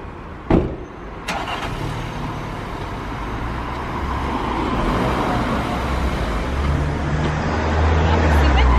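A car pulls forward about a meter, its engine and road rumble building steadily and growing louder toward the end, with a couple of sharp knocks near the start.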